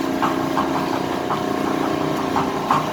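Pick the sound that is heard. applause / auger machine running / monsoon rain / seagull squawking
auger machine running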